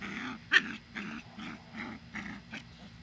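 A puppy growling and grumbling in short rhythmic bursts while tugging at a rope outdoors, close and fairly quiet, about six throaty pulses in a row.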